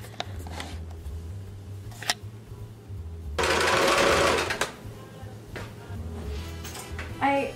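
Sewing machine stitching a jacket, with short whirring bursts and a longer loud run of rapid stitching near the middle, set against quiet room sounds and some talking.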